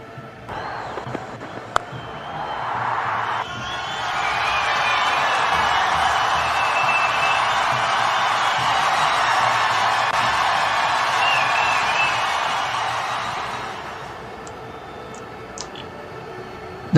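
Packed cricket stadium crowd at Eden Gardens during an India versus West Indies T20 World Cup Super 8 match, swelling into a loud, sustained roar of cheering that holds for about ten seconds before fading back to a murmur.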